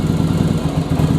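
Yamaha Virago 1100 V-twin motorcycle engine idling roughly up close, a loud steady low thrum with an uneven, stumbling pulse as one weak cylinder cuts out.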